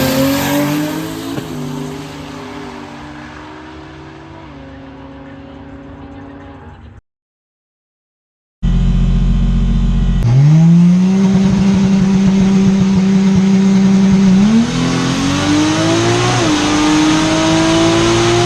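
A 2JZ-powered race car on a drag racing pass roars loudly, with engine revs rising through the gears. The run breaks for a moment of silence, then resumes with sustained, rising engine pitch close to the microphone.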